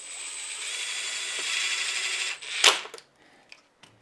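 A tool working M3 cap head screws into a Traxxas X-Maxx RC chassis brace, a close mechanical ratcheting whir that stops abruptly, followed by a sharp clack and a few small taps.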